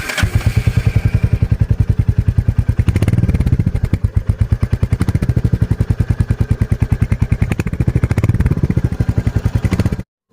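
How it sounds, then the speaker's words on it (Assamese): Royal Enfield Hunter 350 motorcycle idling close up, a loud, steady, rapid thumping exhaust beat held for about ten seconds before cutting off abruptly. "মই এক্সজষ্ট চাউণ্ডটো শুনাই দিছোঁ কেনেকুৱা"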